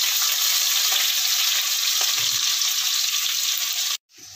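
Onion and masala frying in a pan give off a loud, continuous sizzle that fills the whole clip, with a few faint scrapes underneath, until it cuts off abruptly near the end.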